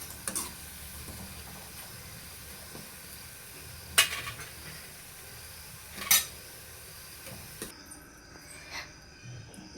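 Bhaji fritters fry in a pan of oil with a soft steady sizzle, broken by a few sharp metallic clinks of a utensil against the pan.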